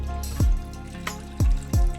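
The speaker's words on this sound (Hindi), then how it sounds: "ये बहुत ज़्यादा गर्म है तो इसको हम ऊपर से" Cold water splashes over freshly made homemade paneer held in a cloth, three separate pours landing in quick succession, close and fairly loud with no voices.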